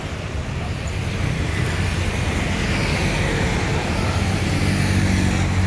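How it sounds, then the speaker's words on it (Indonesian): A Sembodo bus pulls away from Bekasi, bound for Cawang; a steady, loud low engine and road rumble runs throughout with no speech over it. "Oke ya, bus berangkat."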